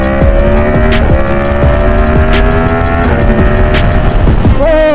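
A Yamaha MT10-SP motorcycle pulls hard in first gear, its loud engine note climbing steeply through repeated rev sweeps up close, with a brief voice heard over the roar.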